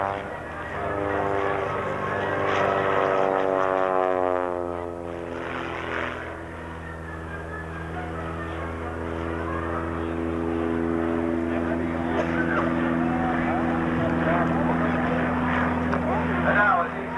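Propeller aircraft fly at a 1992 air show in Bowling Green, their droning engine tone sweeping in pitch as they pass overhead, steady and moderately loud throughout, while an announcer talks over them.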